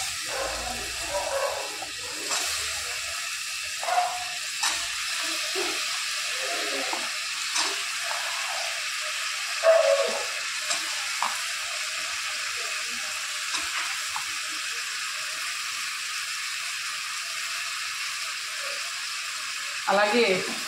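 Tomatoes frying in a pan as potato pieces join them, giving a soft, steady sizzle with a few small clatters and bumps near the end.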